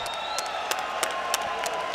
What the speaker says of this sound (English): Hey, everybody, let's give Josh Dyer a round of applause.